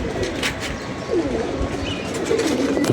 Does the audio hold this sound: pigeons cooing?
yes